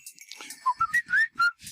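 Someone whistles a short melodic phrase of quick rising and falling notes, close and clear, lasting under two seconds.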